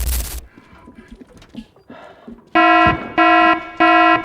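Automatic gunfire in the video game Arena Breakout Infinite, three loud sustained bursts close together in the latter half, after a quieter stretch of muffled game noise.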